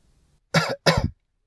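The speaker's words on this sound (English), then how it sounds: "I have a cough." Two short, harsh coughs in quick succession, close and fairly loud, after a moment of near silence.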